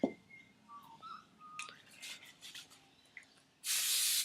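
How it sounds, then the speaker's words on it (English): Hairspray misted onto a messy fishtail braid: a short, close aerosol hiss near the end, after quiet brushing and rustling sounds. "And throw a little bit of hairspray on it."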